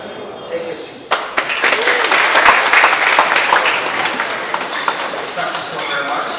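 A room of law students at KIU applauds Mr. Odrek Rwabwogo, a loud, sustained wash of many hands clapping with a few sharp individual claps standing out near the start, continuing steadily to the end.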